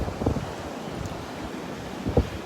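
Steady north wind gusting at Delnor-Wiggins beach on a chilly morning, broadband rumble buffeting the microphone with two louder bursts, surf washing faintly underneath; no talking.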